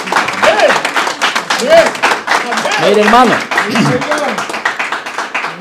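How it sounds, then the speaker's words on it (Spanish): Church congregation applauding, a dense burst of clapping running throughout, with a voice speaking over it. "Ahorita que usted está aplaudiendo"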